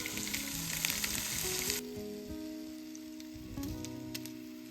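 Onion, capsicum, fennel seeds and two dried chillies frying in ghee on a tawa, a steady close sizzle that is loud and dense at first, then settles to a softer crackle under a faint background hum, with occasional stirring.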